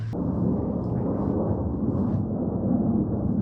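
A deep, continuous roar of an F-16 fighter jet flying overhead at night, steady and loud with rumbling low end, no voices.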